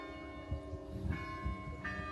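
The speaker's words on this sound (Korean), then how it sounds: "정시마다 성당 가운데 조그맣게 달려있는 7개의 종이 울린다고 하는데요" Seven small bells hung at the center of a Catholic church ring out on the hour, a faint, distant chime with a few soft strikes and lingering tones.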